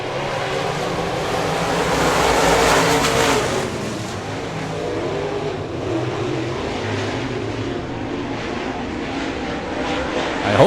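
Late model dirt track race cars in a 15-lap feature at Victory Lane Speedway, Manitoba, roar away at the green flag, a loud dense engine drone that swells early and holds steady.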